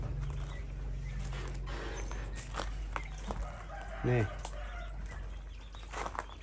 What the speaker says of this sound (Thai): ไก่งวงนี